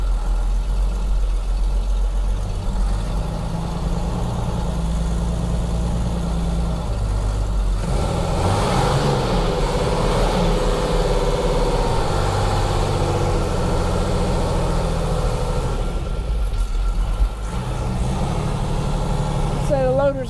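A Mercedes Unimog FLU419 tractor in four-wheel drive, driving in second gear low range, gives a continuous low diesel engine drone with a swell of rising mechanical noise midway and a brief dip near the end.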